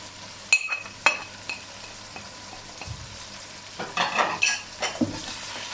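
Tomatoes and powdered spices frying in a pan, with a low sizzle under sharp scraping and stirring strokes of a spoon against the metal, the sizzling swelling loudly near the end as the mixture is tossed.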